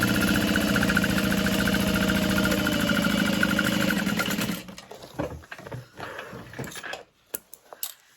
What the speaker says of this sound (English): And then we'll sew up the bottom.